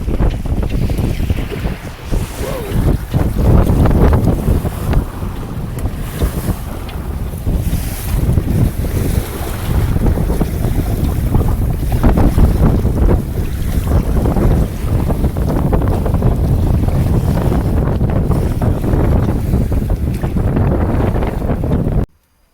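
Strong wind buffets a Siren 17 sailboat on Lake Champlain, making loud, steady roaring wind noise with water rushing along the hull throughout, then cutting off abruptly at the end.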